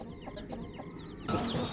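High, thin peeping of newborn Vanaraja and Gramapriya chicks repeats in quick chirps over a low background hum, growing louder and busier near the end.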